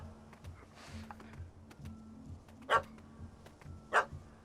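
A puppy in Witcher 3 barks twice in short, sharp yaps over quiet game background sounds, close and clear, with softer noises in between.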